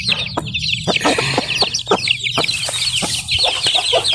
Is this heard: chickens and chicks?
yes